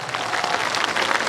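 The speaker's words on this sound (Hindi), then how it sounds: "तालियों से स्वागत होना चाहिए।" Crowd applauding at a political party gathering in Bihar, a loud, dense and continuous burst of clapping from many hands across the whole brief stretch.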